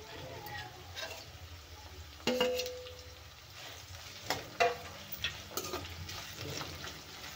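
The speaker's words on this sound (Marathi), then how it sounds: "आता घालूया कढीपत्ता।" Curry leaves hit hot oil with a sudden burst of sizzling, then settle into a steady frying crackle with occasional sharp pops and stirring clicks from the pan.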